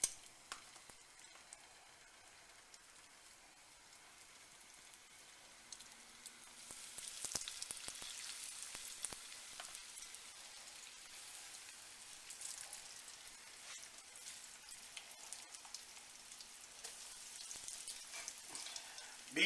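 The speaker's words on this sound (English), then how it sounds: "We're going to start sauteing the strip steaks." Strip steaks sizzle on medium heat in a hot pan, a faint, hissy fry that swells after a quiet start and then holds steady for a long stretch, with a few sharper crackles and no talking.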